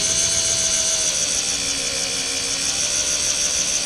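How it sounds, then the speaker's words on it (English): A power drill with a 1/4 inch bit boring a hole in metal for a hotrod wagon spindle, a steady high-pitched whine held at constant speed, loud and close, with no speech. "So this is the 1/4 inch drill bit."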